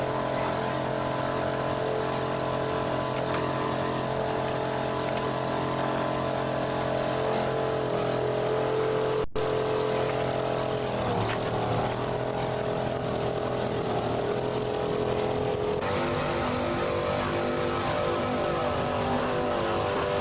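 Racing powerboats with inboard motors roaring at full throttle during the 1990 Islamorada offshore race in the Florida Keys, a loud continuous engine drone with shifting pitch and wind buffeting, close and unbroken for the whole stretch.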